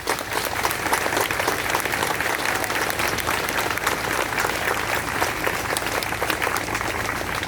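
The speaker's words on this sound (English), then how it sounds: "I have to give them a round of applause" Sustained applause from a large crowd at an outdoor community support rally in Highland Park, steady dense clapping filling the whole stretch at even loudness with no speech over it.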